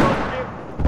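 Mortar fire in the video game Battlefield 4: a short burst of booming, rumbling blasts that ends in a sharp, heavy thud.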